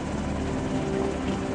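Steady, loud helicopter rotor and engine drone, continuous and close, with no talk over it, flying over a region struck by disaster.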